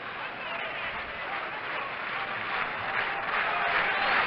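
A home crowd at the 1978 AL East playoff between the Yankees and Red Sox roars steadily in a baseball stadium, a broad, sustained cheer that swells slightly toward the end, heard through an old radio broadcast.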